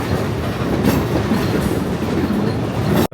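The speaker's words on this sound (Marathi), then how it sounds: "एकदम पहाडाच्या मधातून एकदम ही ट्रेन चालली आहे." A Royal Gorge railway train runs through a mountain canyon, its wheels and carriages giving a loud, continuous close rumble with clattering throughout before cutting off abruptly at the end.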